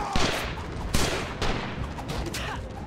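Artillery and rifle fire in the WWII shooter Rising Storm on the Kwajalein map, a dense, continuous barrage of loud cracks and booms with sharp blasts landing about every half second.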